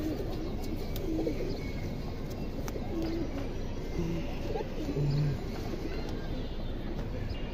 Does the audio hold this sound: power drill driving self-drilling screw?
no